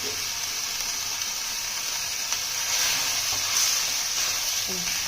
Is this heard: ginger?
yes